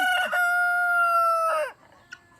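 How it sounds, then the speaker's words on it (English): A backyard rooster crows once, close and loud, during the 2017 eclipse in East Central Indiana; the drawn-out call cuts off sharply, followed by near silence. "my rooster is usually pretty quiet. If there's something going on, then he will crow during the day and make racket"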